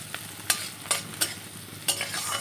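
Onion and dried red chillies frying in oil as a tempering for dal, a low sizzle broken by several sharp spatula scrapes against the pan at an uneven pace, close up and with no voices.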